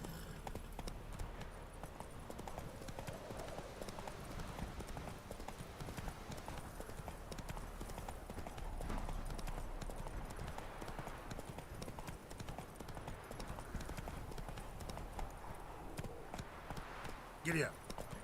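Horse hooves gallop in The Witcher 3 as a steady, fast clip-clop runs throughout under background game sounds and a person speaking.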